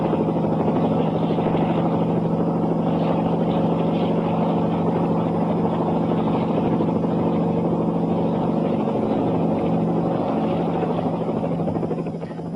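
A helicopter flying relief missions during a snowy British winter of the early 1960s gives a loud, steady rotor and engine drone that stays close throughout and eases slightly at the very end.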